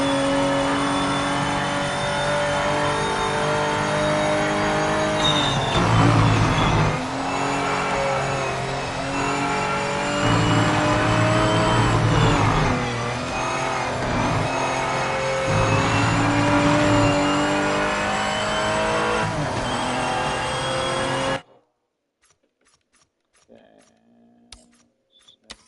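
A race car engine revs steadily through a lap in the Project Motor Racing video game, loud and sustained with rising and falling pitch through gear changes, cutting off abruptly near the end.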